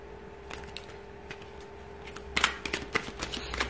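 Tarot cards shuffled during a reading, with soft riffling and flicking that builds into a quick burst of cards slipping and flying loose near the end, fairly quiet and close with no talking.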